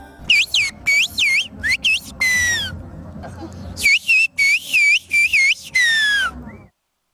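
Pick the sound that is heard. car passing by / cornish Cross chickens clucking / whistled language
whistled language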